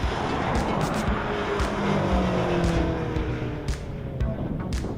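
A Fiat Abarth's 160-horsepower 1.4-liter turbocharged four-cylinder buzzes hard at an autocross course, its revs rising and falling steadily through the run, fairly close and without talk.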